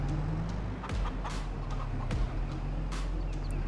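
Chickens cluck in Farming Simulator 22, short scattered calls over a steady, loud mechanical drone from a Claas Axion 960 tractor.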